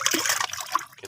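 Molasses and M4 bacteria liquid are poured together, giving a short, close splash and trickle of liquid that quickly tapers off.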